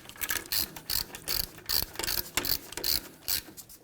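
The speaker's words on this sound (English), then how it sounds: "I'm going to use my ratchet." A hand ratchet snugs down bolts on the rear axle of a 2006-2010 Hummer H3, clicking in quick repeated bursts of close, crisp pawl ticks, with no voices.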